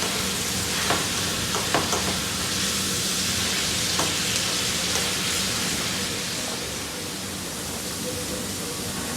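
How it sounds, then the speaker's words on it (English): Ground beef with beef bouillon sizzles steadily in a frying pan, a constant close hiss broken by soft scrapes and clicks of stirring, with no talk. "we're going to stir this up"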